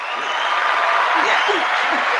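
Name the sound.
applause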